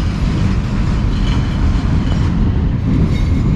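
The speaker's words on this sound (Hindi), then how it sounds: "अमेरिकन लोकोमोटिव 45 हॉर्स पावर का लीड कर रहा है करम एक्सप्रेस को" The Karam Express, led by an American locomotive, pulls into Lahore Junction station with a dense, loud, continuous low rumble of rolling train cars and wheels close by, steady throughout without speech.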